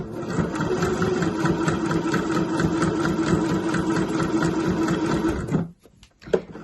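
A sewing machine stitches steadily and close by along a zip pouch for several seconds, a fast even whirring rhythm that stops abruptly near the end, followed by a couple of faint handling clicks.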